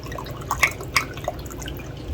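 Water drips and splashes in short bursts as a cup of water is poured during kitchen preserving work with glycerin, a few faint plinks over a quiet background.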